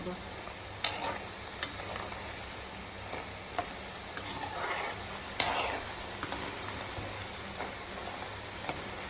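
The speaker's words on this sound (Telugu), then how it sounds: "గోల్డెన్ బ్రౌన్ కలర్ వచ్చిన దాకా వేయించుకోవాలండి" Chitti chekkalu, small rice-flour crackers, frying in hot oil, with a steady soft sizzle broken by sharp clicks and pops at irregular intervals, quiet and close.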